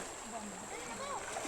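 Children splash while bathing in the Bugak river in Barangay Sawata, Asuncion, Davao del Norte, a faint, continuous watery churning heard under a speaking voice.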